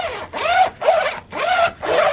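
A suitcase's outside zipper pulled back and forth in four quick, loud, close rasping strokes with short pauses between them.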